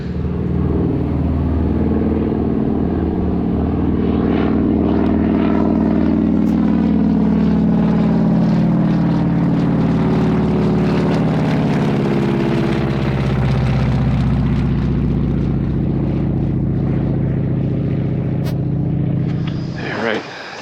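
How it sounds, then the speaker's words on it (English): A big radial aircraft engine on a cold start, running with a loud, deep, rough rumble that holds steady for a long stretch before cutting off abruptly near the end. "always love the sight, smell, and sound of a big round engine getting cranked up"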